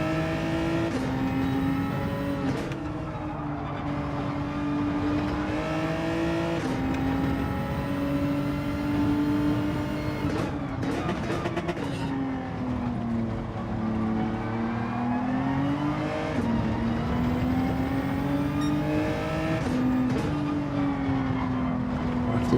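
Race car engines in the Gran Turismo 7 racing game, with Lamborghinis and GT-Rs in a lobby race, producing a loud, continuous engine drone that rises and falls in pitch through gear changes and acceleration.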